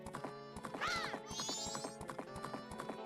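A horse in The Legend of Zelda: Majora's Mask clip-clops at a quick, rhythmic gallop, its hoofbeats loud and close, with a brief whinny partway through and game music tones layered over it.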